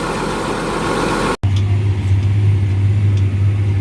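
A tractor engine pulls a field cultivator with a loud, steady low drone close by. It starts after a short break and holds without pause.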